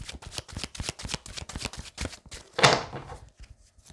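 Tarot cards shuffled in rapid, steady riffling bursts, close and crisp, then a brief louder swish and slap as cards are drawn and set down, followed by softer handling.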